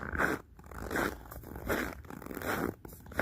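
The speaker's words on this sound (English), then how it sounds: "You can hear the snow crunchy crunch beneath my feet." Footsteps crunching on frozen snow at -23°C during a rural Russian night walk, with a wolf dog along: about six steady, rhythmic crunches, close and moderately loud, no talking.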